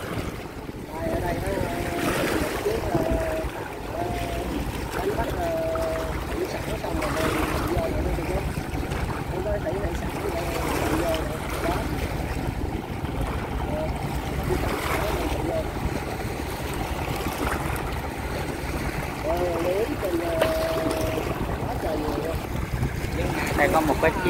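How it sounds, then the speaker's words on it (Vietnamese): Small near-shore fishing boats motoring in toward the coast, their engines droning steadily under wind buffeting the microphone and the wash of waves, with a voice talking intermittently over the scene. "những chiếc tàu nhỏ này nè, chắc có lẽ là đánh bắt gần bờ đi vào."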